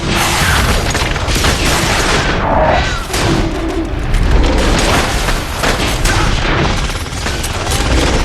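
Guns fire nonstop in The Darkness video game, with dense booming and crackling shots and blasts that overlap in a loud, continuous barrage of close combat.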